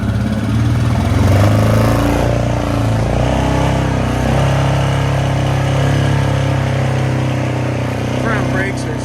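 A four-wheeler ATV engine runs steadily in drive after being submerged underwater, a loud continuous mid-pitched drone with harmonic hum and slight revving, recorded close in a shop.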